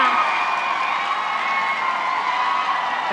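Loud, dense applause mixed with cheering and whoops from an audience at a beauty pageant, steady throughout with no pauses.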